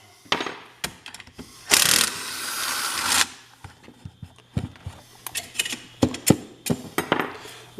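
Impact wrench rattling out the through bolts of a 40-year-old electric motor during teardown, several short bursts and one longer burst with clanks and taps between, close and moderately loud.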